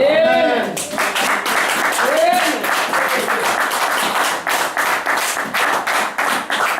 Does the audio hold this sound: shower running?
no